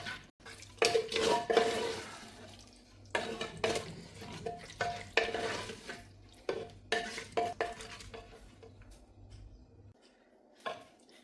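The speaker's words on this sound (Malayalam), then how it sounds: "ആ ബീഫും മസാലയും കൂടിയിട്ട് നന്നായിട്ട് ഇളക്കി യോജിപ്പിക്കണം." Beef and masala stirred together in a hot pan for Kerala-style beef curry: close scraping and soft sizzling in uneven strokes, pausing and resuming, with no talk.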